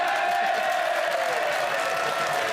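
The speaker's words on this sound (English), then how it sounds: "They're now applauding the fact that they're doing badly." A television studio audience at a 2003 relationship quiz show claps and cheers in a steady, dense wash of applause that holds at an even level from start to end.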